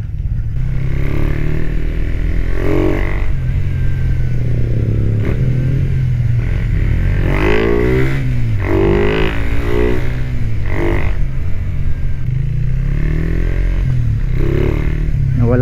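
Suzuki Raider 150 Fi motorcycle engine running close and loud throughout, its throttle repeatedly opened and closed in uneven, jerky revs rising and falling over a steady idle drone.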